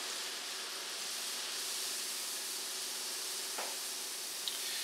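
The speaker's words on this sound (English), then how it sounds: "Good, it's sizzling. Shake off the excess. And into the oil." Hot oil sizzles with a steady, even hiss throughout as rosette batter on an iron fries, with a faint click near the end.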